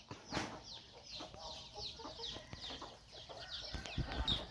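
Chickens clucking close by in a farmyard, several birds giving repeated soft clucks and short calls in an uneven rhythm, fairly faint overall with a few louder bursts.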